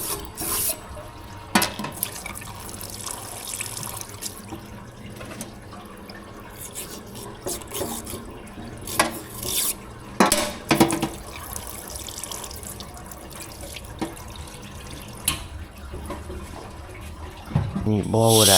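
Liquid sloshes and splashes as a parts washer is tipped over, an irregular stream of watery gurgles and drips running throughout at moderate level, with bursts of louder splashing and a voice talking at times.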